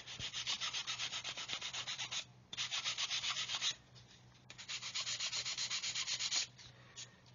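Close, steady sanding and rubbing on a seam of a plastic Revell 1/144 Apollo Saturn V model kit, in three long bursts of rapid, rhythmic back-and-forth strokes separated by brief pauses.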